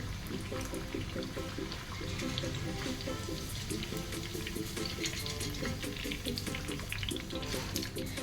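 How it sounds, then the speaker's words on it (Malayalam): Potato french fries deep frying in hot oil at home, a steady, dense sizzle and bubbling that runs unbroken and fairly loud throughout. "ബാക്കിയുള്ളതിനെ ഇതുപോലെ ഫ്രൈ ചെയ്തെടുക്കാം"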